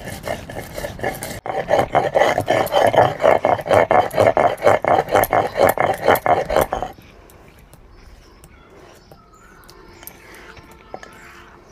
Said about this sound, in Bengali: এবারে সুন্দর করে বেটে মশলাটা রেডি করে নেব